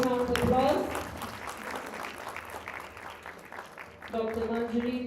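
Audience at a principals' conclave applauding women leaders, a steady wash of clapping under a speaker's amplified voice at the start and end.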